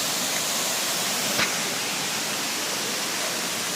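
Water of Kolakham Falls pours down in a steady, dense, broadband roar, loud and unbroken throughout, with one brief faint knock midway.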